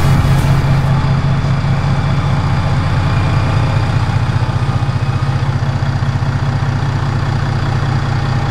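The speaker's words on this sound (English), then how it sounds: "So this 43 is powered by twin Cummins QSB 550 engines." Twin Cummins QSB 550 diesels, 6.7-liter straight sixes aboard a Mikelson 43 sportfishing yacht on San Diego Bay, idle with a loud, steady low rumble and throb that holds without change throughout, no talk over it.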